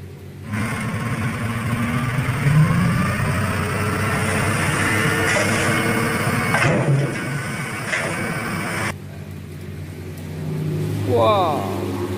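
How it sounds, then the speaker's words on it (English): A dump truck engine runs for about twelve seconds as a loud, close, steady rumbling drone. Near the end a brief rising whine sweeps upward. "Dump truck."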